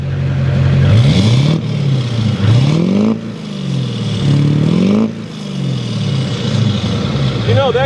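An old pickup truck's engine is floored to full throttle, revving hard in repeated rising surges that fall back and climb again, loud and close, with voices talking over it.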